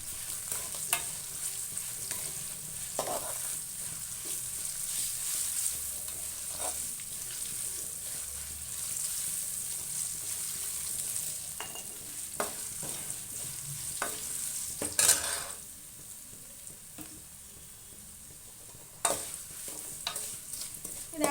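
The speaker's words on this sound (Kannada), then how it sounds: "ಇದೊಂದು ಕೆಂಪಾಗಲಿ ಬೆಳ್ಳುಳ್ಳಿ ಎಣ್ಣೆ ಒಳಗೆ ಮತ್ತು ಹಸಿ ಹಸಿ ಇದ್ರೂ ತುಂಬ ದಿವಸ ಇಡೋಕ್ಕಾಗೋದಿಲ್ಲ ಹಾಗಾಗಿ ಫುಲ್ಲು ಡ್ರೈ ಆಗಬೇಕದು" Garlic frying in oil in a pan while being stirred, a steady soft sizzle throughout with occasional scraping clicks of the spoon, fairly quiet and close.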